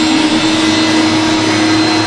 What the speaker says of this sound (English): Let me get the vacuum running.